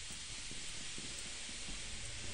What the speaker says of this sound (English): it's the steam, it's just the steam, but it's scaring me